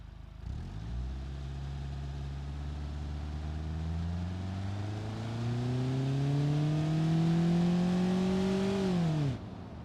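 In BeamNG.drive, a car engine under nitrous revs up from a low drone to a rising, steadily climbing roar for about nine seconds, loud and unbroken, then cuts off abruptly.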